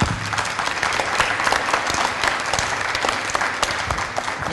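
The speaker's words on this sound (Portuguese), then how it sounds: "acho que todos nós merecemos uma salva de palmas" Sustained applause from a crowd, dense clapping that stays steady and fairly loud throughout, with no voices standing out.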